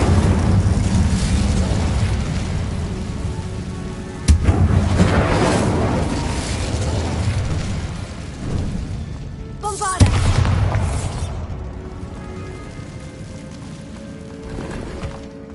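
Spell blasts from the video game Hogwarts Legacy: a sharp boom near 4 s and another near 10 s punch through a dense, rumbling game soundscape, with spoken spell incantations and brief voice lines in between.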